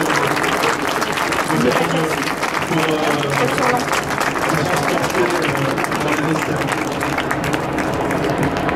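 Audience at a boat blessing for the Saint Michel - Virbac yacht before the Transat Jacques Vabre applauds Jean-Pierre with sustained, dense clapping throughout, while people talk over it nearby.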